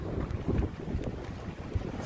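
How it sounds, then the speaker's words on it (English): Strong wind at a fairground with a Ferris wheel just after a storm passes, roaring and buffeting the microphone in steady gusts, with no voices. "Still windy as hell."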